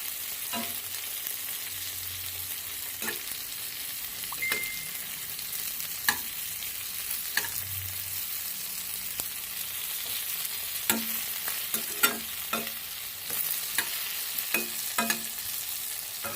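Onions frying in a pan, a soft continuous sizzle with intermittent light clicks and scrapes of stirring, steady and fairly quiet.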